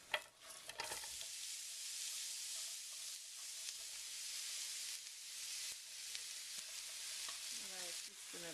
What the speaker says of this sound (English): I'm going to cook the onions next